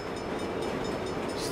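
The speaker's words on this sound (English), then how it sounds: "The train rolls through here." Train in the Saints Row video game rolling through, a loud continuous rumbling roar that stays steady and close for the whole short stretch, with no talking.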